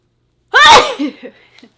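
A single loud sneeze bursts out close by, followed by a softer trailing breath and a brief vocal sound fading away.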